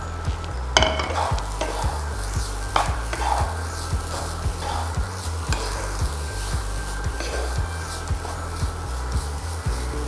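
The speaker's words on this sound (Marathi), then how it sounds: "या तुपामध्ये आपण जो खोवलेला ओला नारळ आहे तो परतून घ्यायचा आहे." Grated fresh coconut is stirred in ghee in a hot pan: soft sizzling under repeated scraping strokes, with regular knocks of the spatula against the pan throughout.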